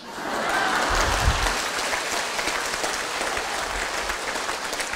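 A lecture audience applauds in a sustained, dense wash of many clapping hands that fills the room at a fairly steady level from start to end.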